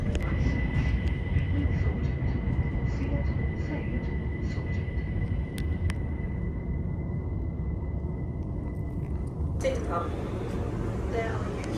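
The inside of a passenger train in England, heard while riding: a steady low rumble and rattle with a constant high whine, small clicks, and a shift in tone near the end, with people talking over it.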